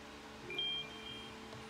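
Short electronic alert beeps from a smartphone triggered by the find-my-phone function on a Garmin Forerunner 945 watch, faint chirps in a quiet room with no speech.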